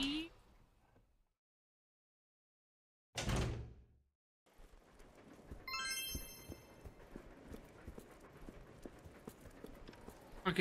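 A spooky door in the Resident Evil Zero video game creaks and slides open with a sudden heavy burst, followed by a rumbling, clattering in-game ambience with a rising chime.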